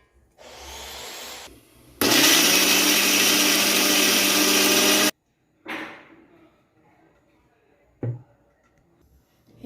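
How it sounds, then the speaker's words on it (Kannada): Mixer grinder blending cut mango pieces in a home kitchen: a loud, steady motor whir runs about three seconds, preceded by a quieter burst and followed by brief clatters and handling knocks. "ಅದನ್ನು ಮಿಕ್ಸಿ ಮಾಡಿಬಿಟ್ಟು ಬಾಣಲಿಯಲ್ಲಿರೋ ಮಿಶ್ರಣಕ್ಕೆ ಸೇರಿಸ್ಕೋತಾ ಇದ್ದೀನಿ"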